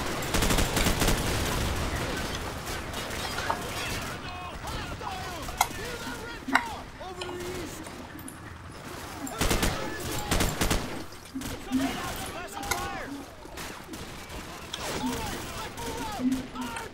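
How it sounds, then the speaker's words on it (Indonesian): Teammates in Call of Duty: Modern Warfare unleash dense, continuous automatic gunfire, rapid bursts and sharp cracks, loud and close throughout, with brief lulls between volleys. "Kenapa teman kita malah nembakin kita ya?"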